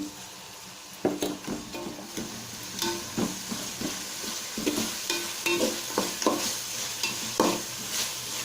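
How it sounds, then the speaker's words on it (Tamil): Tomatoes with mint and coriander leaves sautéing in a pan for chicken biryani: a steady frying sizzle broken by repeated scrapes and clatters of a stirring spoon, close and fairly loud, with no talk. "இது நல்லா வதங்கணும். இப்போ தக்காளி நல்லா வதங்கிருச்சு."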